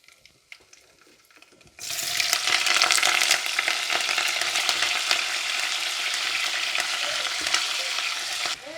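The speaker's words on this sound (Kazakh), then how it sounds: "мұндағы ірі етіп туралынған пекин қырыққабатын қуырып аламыз" Coarsely chopped Peking cabbage hits hot oil in a pot and fries with a loud, steady sizzle that erupts suddenly after a quiet start and holds, with stirring noises mixed in.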